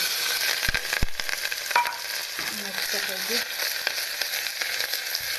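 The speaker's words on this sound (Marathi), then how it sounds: "कांदा टाकून हलवून घेतला" Onion and cumin frying in hot oil in a pan, a continuous close sizzle broken by two sharp spatula knocks early on and soft scraping as the mixture is stirred.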